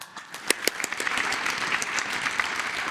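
Applause from the audience at a presidential press conference in Mexico marking International Day of Older Persons, steady close clapping across the room with a few sharp individual claps standing out.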